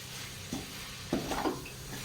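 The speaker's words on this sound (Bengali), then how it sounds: "এবারে একবার ভালো করে নাড়াচাড়া করে দেখে নেব" A coconut laddu mixture is stirred in a pan, with soft scraping strokes and a few louder spoon scrapes over a low, steady background hiss.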